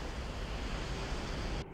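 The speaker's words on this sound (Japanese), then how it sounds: "まさか、あれは津波？" A massive tsunami wave surging through outer space in the anime film Tengen Toppa Gurren Lagann: Lagann-hen, heard as a loud, steady roaring wash of broadband surf noise that runs throughout and drops away abruptly at the end.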